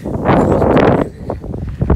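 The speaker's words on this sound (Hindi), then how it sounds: "हवा चल रही है तेज़ हवा चल रही है" Strong wind blowing outdoors on a cold day buffets the microphone, producing a loud, rough roar that surges and then eases into gusty rumbling.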